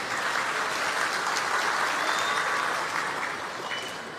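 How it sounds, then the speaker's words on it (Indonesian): An audience at a Nuzulul Qur'an commemoration breaks into sustained, dense applause, steady and fairly loud from start to finish, tapering slightly at the end. "Dan kita minta tepuk tangan dari panjenengan untuk tambah semangat beliau."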